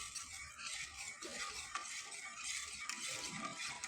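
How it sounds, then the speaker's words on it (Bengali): Rice flour paste stirred continuously in a pan over low heat, a quiet, steady scraping and squelching of a spoon against the pan with faint soft sizzling and no voices. "তাই অনবরত এভাবে নেড়েচেড়ে নিতে হবে।"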